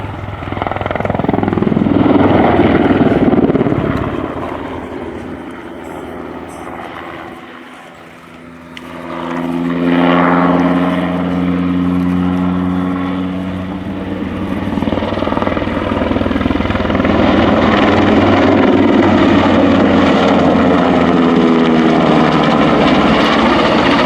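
An NH90 military helicopter's loud rotor and turbine roar fills the whole stretch, easing briefly mid-way before building again as it passes close during an air show demonstration.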